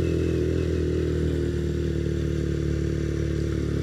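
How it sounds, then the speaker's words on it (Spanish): A motorcycle ridden along the road, picked up by a wireless microphone inside a helmet: a steady, loud engine drone with rumbling wind noise that runs unbroken throughout. "a ver cómo se escucha ya con la motocicleta andando"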